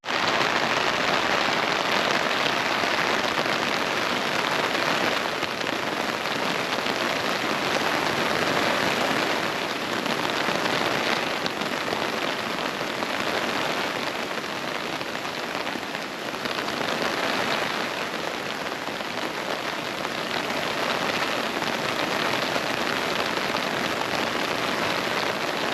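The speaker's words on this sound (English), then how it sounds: "it's starting to rain" Steady rain pouring onto a tent while camping, a dense continuous hiss of drops that holds evenly throughout, with no voices.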